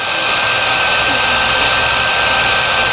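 A heat gun blows hot air in a loud, steady, close roar with an even whoosh that does not change across the whole stretch. It has no pauses and no other sounds.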